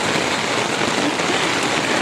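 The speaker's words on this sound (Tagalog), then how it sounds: "umuulan, naliligo sa ulan." Steady, dense rain hissing down continuously during a flood, an even wash of drops pattering on surfaces with no pauses or voices.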